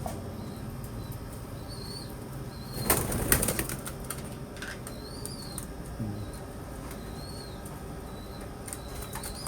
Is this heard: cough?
no